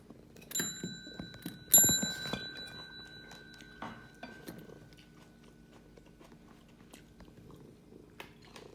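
A pet strikes a bell to get kibble: two bright rings with a lingering tone, followed by crunchy chewing and small clicks in a quiet room.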